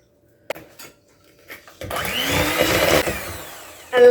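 An electric hand mixer whirs steadily as it beats egg yolks and vanilla in a bowl, starting after a few light knocks and running loud and close for a couple of seconds.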